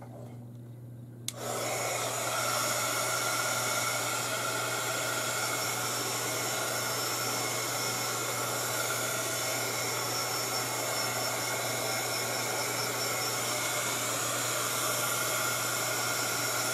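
A hair dryer blows steadily on a watercolor painting, switching on abruptly after a brief quiet moment and then running as a loud, continuous whoosh with a constant low hum throughout.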